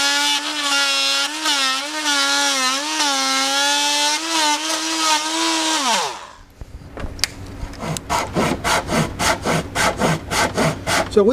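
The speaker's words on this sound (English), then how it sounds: "So we switch to the Japanese saw" A Japanese hand saw cuts into an old wooden dresser. A sustained wavering whine fades out at about six seconds, then quick, regular back-and-forth saw strokes rasp close by until the end.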